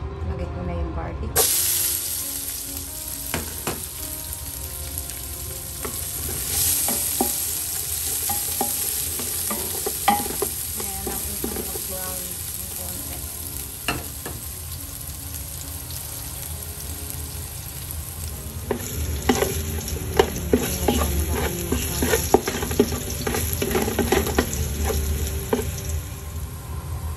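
Garlic sizzles in a thin layer of olive oil for a peanut-butter caldereta, a steady frying hiss with occasional stirring clicks, close and fairly loud, the sizzle brightening partway through.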